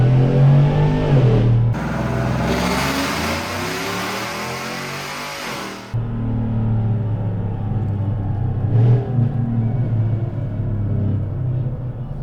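Whipple supercharged 6.2L GMC Sierra Denali on a dyno, the engine roaring up through a loud full-throttle pull, cutting off sharply, then settling into a deep rumbling idle, close and continuous, with no talk.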